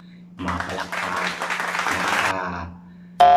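A canned applause effect triggered from a V8 live sound card: a short burst of crowd clapping swells and holds for about two seconds, then fades, followed by a sudden electronic tone over a low hum.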